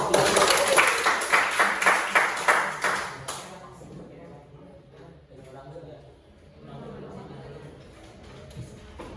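Classroom applause for a presenting student group, several seconds of rhythmic clapping that fades out, followed by quiet voices talking.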